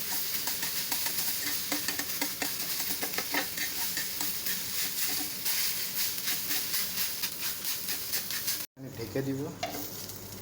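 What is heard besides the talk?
egg with onions frying in a pan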